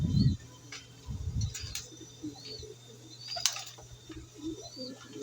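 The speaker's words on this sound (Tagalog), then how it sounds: "Ito, ang ating ibon." A fancy pigeon gives a couple of low, soft coos near the start, with faint chirps and light rustling in a quiet loft.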